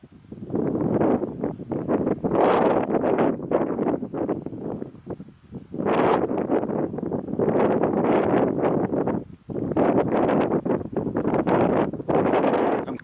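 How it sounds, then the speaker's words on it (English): Loud wind buffeting the microphone on Steeperton Tor, Dartmoor, in long roaring gusts, with brief lulls between them and no speech. "it's quite windy"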